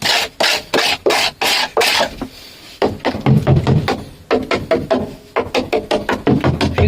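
Hand scraping of rust in the front wheel arch of an Auto Union F102: close, rhythmic rasping strokes, some in quick repeated bursts and others longer and grinding, with a short pause partway through.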